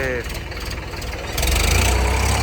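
A Sonalika 750 tractor engine idles with a steady low, rumbling throb that grows louder and heavier in the last second, while voices talk over it.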